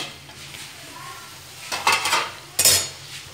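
A lid is lifted off a pot of chillies cooked with yogurt, giving two clear metallic clatters after a quiet moment.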